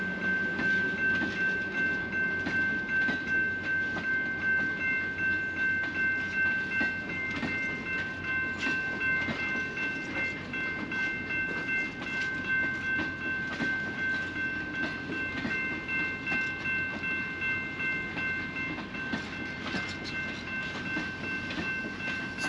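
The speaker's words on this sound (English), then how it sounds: "Steam engine's backing up right now." A steam locomotive backs up nearby at the Grand Canyon Railway in Williams, Arizona, rumbling steadily with a constant mechanical roar, clanking and a sustained high whine, continuing unbroken throughout.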